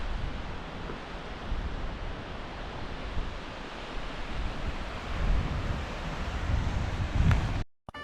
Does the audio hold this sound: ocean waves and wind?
yes